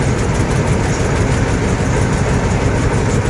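Tour boat engine running on the way to Phong Nha cave in Vietnam, a loud, dense, continuous mechanical rumble with no pauses and no voices.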